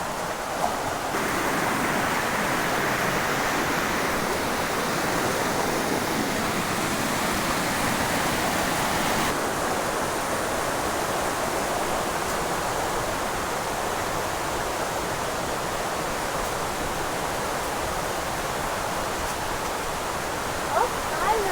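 Steady, loud rushing water pours continuously at a secret waterfall in Quezon, a dense unbroken roar close by with no pauses.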